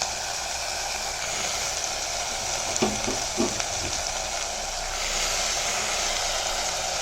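Amaranth greens fry in a pan with a constant broad sizzling hiss, moderately loud, broken by a few light clinks of a spoon stirring midway.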